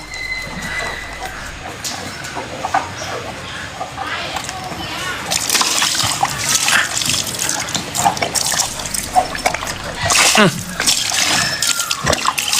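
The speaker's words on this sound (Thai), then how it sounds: "ทำให้น้ำกระเด็นใส่เนี่ย ตั้งใจปะเนี่ย" Water splashes at a zoo enclosure as the pygmy hippo moves through its pool, a busy sloshing and spattering that grows livelier midway, heard close under frequent excited talk from people nearby.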